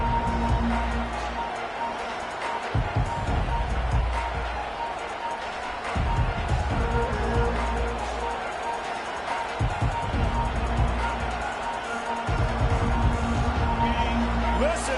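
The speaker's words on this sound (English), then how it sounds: "Listen to this crowd just shaking the girders of this place, trying to help their defense" Stadium crowd roaring at a college football game between Oregon and Texas A&M, a loud sustained din swelling and surging in waves, with a commentator talking over it.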